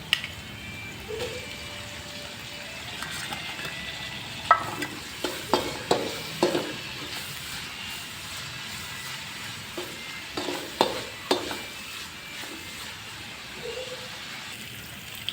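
Chopped tomatoes and green chillies fry in a pan for chicken fry, with a steady low sizzle and two clusters of sharp spoon taps and scrapes against the pan. No one speaks.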